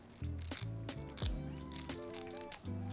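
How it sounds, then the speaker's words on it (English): Small scissors cut through the lace of a pre-made wig in several sharp, close snips spread irregularly, with steady background music throughout. "And I'm gonna go in with my little baby scissors."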